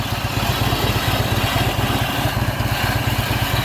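A 2009 Harley-Davidson Tri Glide Ultra Classic with a 110-inch engine idles close by, its V-twin putting out a loud, lumpy, rhythmic low thump that stays steady throughout.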